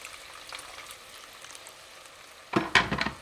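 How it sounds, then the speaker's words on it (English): A tomato cooks in a pan with a little boiling water, giving a soft steady sizzle and bubbling that swells into louder, sharper spitting and stirring sounds near the end. "I'm gonna let the tomato cook for a little bit."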